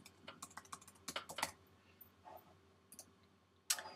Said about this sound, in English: So just type in your password.